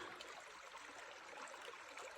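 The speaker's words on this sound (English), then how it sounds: "Check out this little creek here going in between two lakes." A small creek running between two lakes in Canada's boreal forest gives a soft, steady trickle and babble of shallow flowing water, faint and continuous, with no voices.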